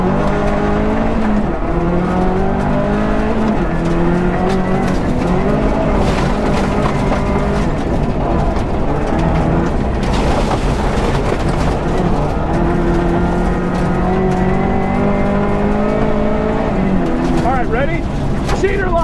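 An R4 rally Subaru is driven hard nearby, its engine note rising and falling through repeated revving and gear changes, loud throughout, with voices talking over it.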